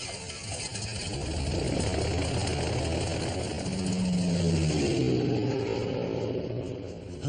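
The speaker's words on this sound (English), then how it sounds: "This is one engine you don't want to have not work on you all of a sudden." A single-engine bush airplane drones steadily in flight over Alaska, a dense, even roar that fills the whole clip with no talk and only slight swells in pitch.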